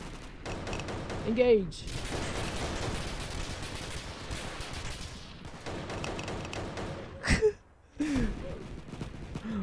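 Shotgun blasts in the Roblox game Oof Brigade, a few loud bursts spaced apart over steady game noise, with a player talking throughout and a short game voice line.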